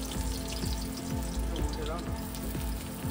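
Whole chilies and chopped onion frying in hot mustard oil, giving a steady close sizzle with crackling bursts throughout at moderate loudness.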